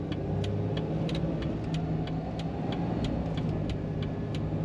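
A 2004 Jeep Wrangler Unlimited with an automatic transmission idles with a steady, low engine rumble and faint ticking, close by and unchanging, with no voices.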